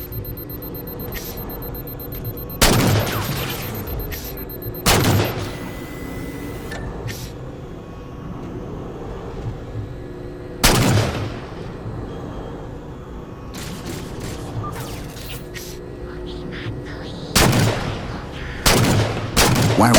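Gunfire in the video game Halo 4 comes in several sharp, loud bursts spaced a few seconds apart, separated by quieter stretches of game ambience and mechanical hum.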